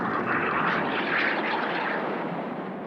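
Aerobatic display team jets at an air show, including formation teams such as Italy's Frecce Tricolori, produce a steady, loud broadband engine roar that fades slightly toward the end, with no talk.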